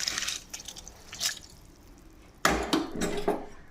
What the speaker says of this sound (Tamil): இப்போ நம்ம அரிசியை தட்டிடலாம்.